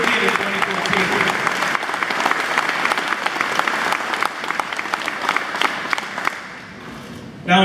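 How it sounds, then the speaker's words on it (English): Sustained audience applause at a Republican Party of Wisconsin state convention in La Crosse, a dense, steady wash of clapping from a large crowd that carries on for several seconds before briefly dipping near the end. "Please give these gentlemen and all of our Republican candidates a round of applause for what they did in 2014."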